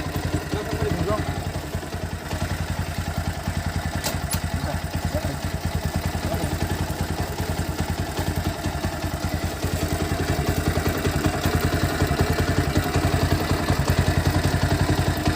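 The chain of a Bajaj Pulsar NS125 motorcycle rattles with a fast, even clatter over a running engine, heard up close and continuously.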